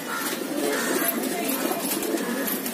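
Lalsire Makve pigeons in a loft give soft, continuous cooing and low murmuring at a steady close level, with faint chirps mixed in and no speech.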